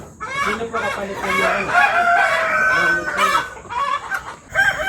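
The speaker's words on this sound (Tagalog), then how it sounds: "Parang may mga nangingitlog na chicken." Chickens in a Philippine poultry farm house cluck and squawk loudly and close by, several birds calling over one another in a continuous, busy chorus.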